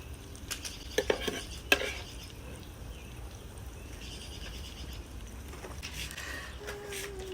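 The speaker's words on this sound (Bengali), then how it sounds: "ইলিশ ভাজা খাইতে হবে গরম গরম" Hilsa fish frying on a wood-fired clay stove outdoors, a steady low sizzle with a few sharp clinks and scrapes of a spatula against the pan early on, moderately quiet throughout.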